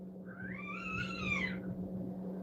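Outdoor cats fighting produce a single drawn-out, wavering yowl that rises and falls, faint and distant over a steady electrical hum.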